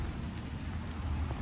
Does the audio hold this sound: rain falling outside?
yes